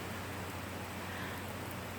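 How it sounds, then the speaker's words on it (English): A passing rain shower falls outdoors as an even, dense hiss of drops, unbroken and fairly soft across the short stretch, with no voices. "I love the rain."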